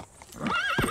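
A nervous horse gives a sharp, rising whinny close by, with a hoof knock or two underneath, all within under a second.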